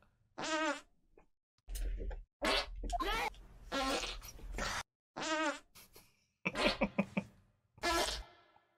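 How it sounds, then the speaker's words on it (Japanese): Farts altered with a sound effect that makes them buzz and whine like insects or a toy, heard as several separate bursts with short silences between them. "これでもさ、エフェクトかけてんだろ、これ、俺の屁に。"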